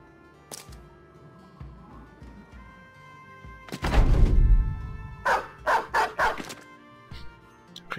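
A dog barks in the video game Battle Brothers, one loud burst followed by a rapid run of four or five sharp barks over a low, steady game background.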